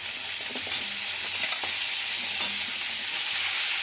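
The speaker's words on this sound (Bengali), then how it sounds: "ক্যাপসিকাম আমার ভাজা হয়ে গেছে, এবার আমি পেঁয়াজটা দিয়ে দেবো" Capsicum sizzling and frying in a pan while onion goes in for a chilli gobi dish, a steady close hiss with a few clinks and stirring scrapes and no talking.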